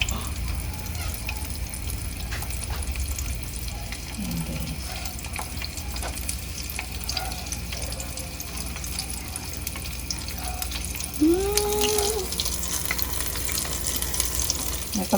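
Water runs steadily into a bowl where cauliflower pieces are soaking, a continuous close hiss and splash with occasional clinks and no talk.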